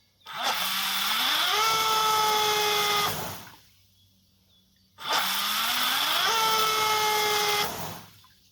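An 1800 kV RC brushless motor spins up with a rising whine, then cuts out sharply as the ESC hits low-voltage cutoff. The cycle repeats twice with a short quiet gap between.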